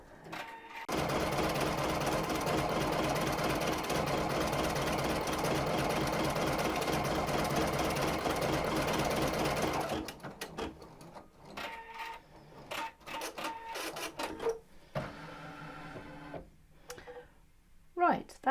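An embroidery machine stitches decorative stitches down the join of a romantic crazy quilt block with a rapid, steady mechanical chatter for about ten seconds. It then stops abruptly, leaving scattered clicks and handling noises.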